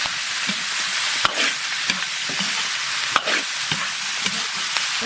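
Lamb brain is stir-fried in a wok with oil, scallion, ginger, garlic, dried chilies, Sichuan peppercorns and chili paste, giving a constant close sizzle broken by regular scraping strokes of the spatula.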